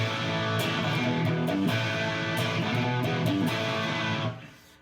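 Distorted electric guitar plays the opening riff of a song in E, loud power chords with string bends in a driving repeated pattern, close and alone before the sound cuts off.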